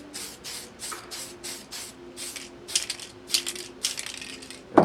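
Spray paint goes on as a second coat in short hissing bursts from a can, about a dozen quick sprays in a steady rhythm with small rattles between them, close and moderately loud.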